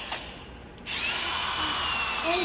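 A power drill starts up partway through and whines steadily at close range, a brief tap or click sounding just before it spins up.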